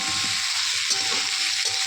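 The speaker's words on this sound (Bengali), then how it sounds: "আবার একটু ভাজবো" Potatoes and green chillies frying in oil for khichuri, a loud continuous sizzle with soft stirring knocks from the pan underneath.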